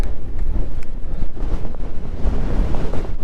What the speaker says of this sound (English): that sound is the sound of my jacket being dragged in the wind.